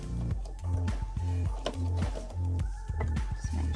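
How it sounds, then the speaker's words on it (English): A sewing machine top-stitches PUL fabric for a nappy cover in short repeated bursts, about five runs of whirring motor hum separated by brief pauses, close and clear with no talk. "and then I'm going to keep top stitching."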